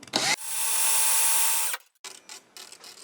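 A power drill spinning its chuck to straighten coil wire for a multi-gauge zipper coil, one steady whirring run of about a second and a half, close and loud, followed by a few faint clicks.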